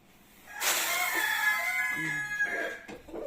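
Chickens in Finland gather at feeding time. A rooster crows loudly and close by, followed by softer clucks from the flock.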